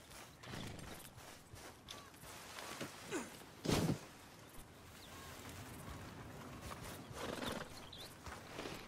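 A horse in the Red Dead Redemption 2 video game moves with soft, irregular hoofbeats, and a snort or whinny briefly rises above the background of game sounds.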